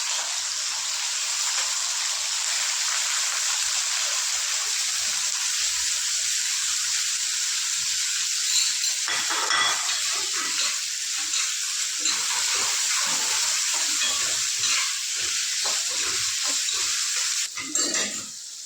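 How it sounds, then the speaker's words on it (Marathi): Spiny gourd sizzles and spatters in a pan of hot oil with mustard seeds and cumin, a steady bright hiss that runs the whole time, with rustling and scraping from stirring that becomes more frequent partway through. "तर करटोले टाकून परतून घेणार मी."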